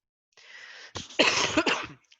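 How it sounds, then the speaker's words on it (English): A single rough, throaty cough, loud and close, with a short breathy onset and a couple of harsh bursts, then silence. "I'm never going to get over this cough."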